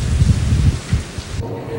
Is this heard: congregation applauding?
no